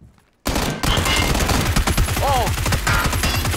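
Bursts of rapid automatic gunfire in PUBG crack loudly and steadily after a moment of quiet, with a short exclamation from a player near the start.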